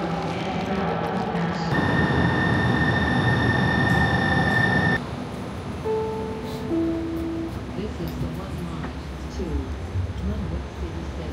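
A Seattle public transportation train rumbles steadily with a loud broadband roar, strongest for a few seconds in the middle, while tonal whines and squeals rise and fall; a person talks over it.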